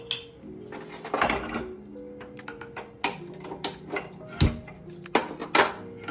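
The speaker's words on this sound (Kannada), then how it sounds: "ಈಗ ಮೊದಲನೇದಾಗಿ ನಾವು ಸ್ಟವ್ ಹಚ್ಕೊಂಡು ಬಾಣಲೆ ಇಟ್ಕೊಳ್ಳೋಣ" A pan clinks and clatters onto a kitchen stove as an amla decoction is being started, with a series of sharp metallic knocks and taps, close and fairly loud, and no talking.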